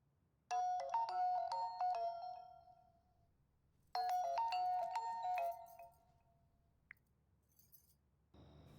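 A phone ringtone plays a bright electronic melody in two loud bursts separated by a short pause, then stops, with a faint click afterward.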